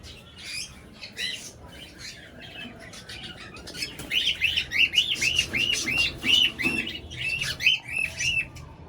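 A female cockatiel gives a run of short, bright repeated chirps up close, joined by softer squawks and chatter from other birds in the background, with no talking.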